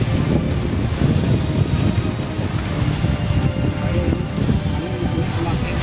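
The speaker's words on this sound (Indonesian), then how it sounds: "angin semakin kencang soalnya ini pohon-pohon sudah pada tua ya" Strong wind gusts through old trees at a hillside grave site, a steady broadband roar with rustling, continuous and fairly loud, with voices talking faintly underneath.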